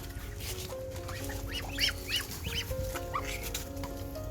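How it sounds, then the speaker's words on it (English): A flock of ducks waiting to be fed calls out with overlapping honks and quacks, several loud calls rising above a steady low murmur of the birds nearby. "A lot of duck. They're waiting for the food."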